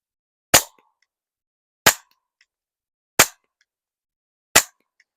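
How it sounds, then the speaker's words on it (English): A Taurus TX22 Gen 2 .22 pistol fires CCI standard velocity rounds into dirt outdoors: four sharp, evenly spaced cracks about 1.3 seconds apart, each short and loud, with silence between shots. "Going to try to shoot some in the dirt here real quick."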